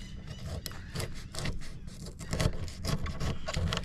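Close, steady rasping strokes of a knife sawing through a fish's flesh and bone, repeated in short back-and-forth bursts with a low background rumble.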